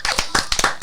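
A few people clap in uneven bursts, roughly six sharp claps spread over under a second, close and fairly loud with no talking.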